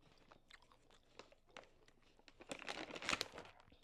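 A daughter bites into a Trader Joe's snack, with soft, close crunching and chewing that starts faint and scattered, then grows into a denser, louder burst of crunches near the end.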